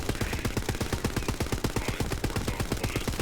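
Rapid automatic gunfire in the Borderlands video game, a steady stream of loud, evenly spaced shots rattling close by for the whole stretch with no pauses.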